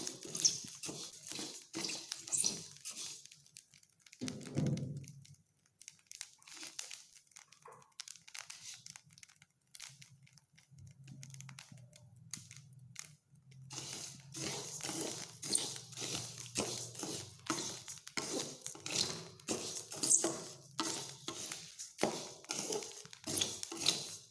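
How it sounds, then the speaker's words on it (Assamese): Rice roasting in a pan as it puffs into muri, a dense run of quick crackles and pops, fading to near quiet before the rapid crackling builds again. "ধুনীয়াকৈ চট চটকৈ ফুটি আছে এতিয়া মুড়ি হৈ গৈছে"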